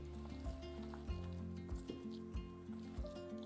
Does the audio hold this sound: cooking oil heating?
yes